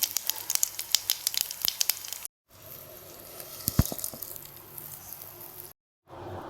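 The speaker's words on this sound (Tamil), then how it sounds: "இந்த தாளிப்பை நம்ம துவையில சேர்த்துக்கலாம்" A tempering for horse gram (kollu) chutney sputters faintly in a pan. Quick crackling pops come first, then a softer, steady sizzle with an occasional snap, separated by short gaps of silence.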